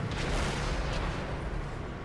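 Artillery fire in a tank battle video game, heard as a dense, continuous roar of low rumbling blasts that stays loud and steady throughout, with no clear gaps between impacts.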